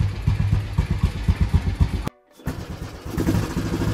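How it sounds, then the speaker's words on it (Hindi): A 60-year-old 1960 Royal Enfield Bullet runs after a single kick start, its engine thumping in a steady, loud, close rhythm with a brief dropout midway before the beat resumes. "ये देखो सिंगल सिंगल किक स्टार्ट हुई है आज की डेट में भी 60 साल पुरानी बाइक सिंगल किक स्टार्ट है।"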